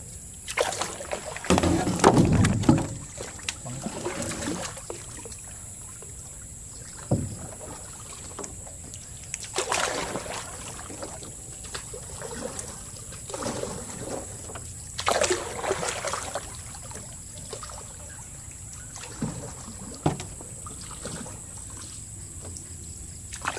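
Water gently laps and sloshes around a small boat, with occasional louder splashes and knocks over a steady background hiss.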